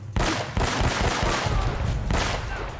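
Rapid bursts of automatic gunfire in Uncharted, loud and close, with a couple of short pauses between the volleys.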